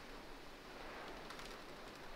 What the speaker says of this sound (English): Excuse the dramatic sound of the rain,